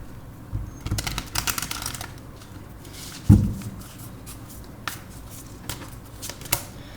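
Tarot cards are shuffled close by in quick riffling bursts, with a soft thump partway through and scattered light taps and flicks afterward. There is no talking.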